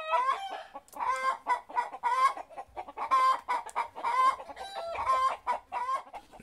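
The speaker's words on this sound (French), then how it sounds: "c'est agréable d'entendre chanter ces poules" Hens cluck and squawk continuously in a busy, overlapping chorus, with rooster-like calls mixed in, close by and fairly loud.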